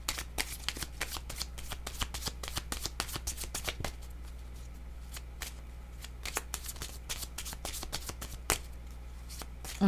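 Tarot cards are shuffled by hand in a quiet room, giving rapid, crisp riffling flutters and soft taps that come in bursts with short pauses, close and fairly faint, with no speech.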